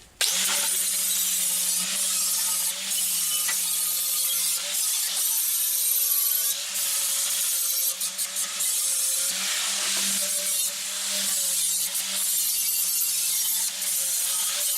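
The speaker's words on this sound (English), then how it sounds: "I'm going to try a flap disc on it to just try and even up the edges on the top" A flap disc on an angle grinder evening up the top edges of a steel keg for a DIY forge, a loud continuous whining grind held near the mic with brief dips and no speech.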